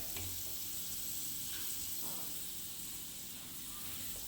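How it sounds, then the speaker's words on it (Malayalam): Coconut pieces fry in hot oil for an Onam ginger curry, making a soft, continuous hiss and sizzle that stays even and fairly quiet throughout. "ഇതിലേക്ക് തേങ്ങാക്കൊത്തിട്ട് നല്ലോണം ഫ്രൈ ചെയ്തെടുക്കുന്നു"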